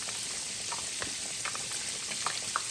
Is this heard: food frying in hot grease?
yes